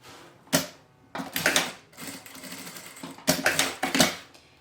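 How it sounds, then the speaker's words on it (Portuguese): Domestic sewing machine stitching a beach bag strap, running in several short bursts of rapid mechanical whirring separated by brief pauses, close and fairly loud. "eu posiciono e vou costurar"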